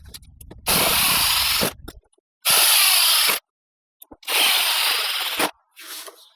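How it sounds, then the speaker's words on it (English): A cordless power drill drives screws into dirt to anchor a Yarbo Y robotic mower docking station outdoors, with three loud, sustained, close whirring runs of about a second each, separated by short pauses. "I'm just screwing into dirt, so it's not really hard to do."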